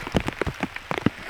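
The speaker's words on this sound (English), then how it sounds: "it looks like the rain is starting to pick up pretty hard" Heavy rain falls near a flooded river at a camp with a tarp and tent, drops pattering irregularly and close on a surface over steady hiss.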